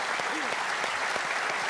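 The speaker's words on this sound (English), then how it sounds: "I think it deserves a round of applause" Studio audience of a televised football talk show applauds, a brief burst of clapping and cheering with a host's voice briefly audible over it.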